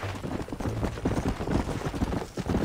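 Horse hooves clip-clop steadily along in Red Dead Redemption, a dense, continuous run of close, rhythmic footfalls with a low rumble underneath.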